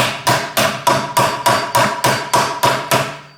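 A hammer strikes a bearing being removed from a Honda Civic automatic transmission. About ten sharp, ringing metallic blows land close up in an even, quick rhythm with nothing else heard.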